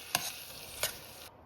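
Samosa filling of peas and spices is mixed in a pan, with two brief, soft scraping strokes over a faint hiss of cooking.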